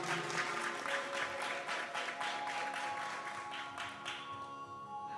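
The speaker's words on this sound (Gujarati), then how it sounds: "તો તાળીથી આપ સૌ સ્વામીને આપણે વધાવીએ" Audience at a Saturday religious assembly in Edmonton, Canada applauds to welcome a visiting swami: dense, steady clapping from a crowd fills the whole stretch, thinning slightly toward the end.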